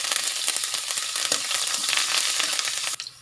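Curry leaves drop into hot oil for a tempering along with mustard seeds, cumin and red chillies, and set off a loud, fierce crackling sizzle up close. It cuts off abruptly near the end.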